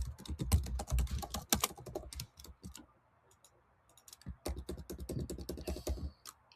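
Someone types an email on a computer keyboard, with bursts of close, crisp key clicks, a pause of near silence in the middle, then more rapid typing.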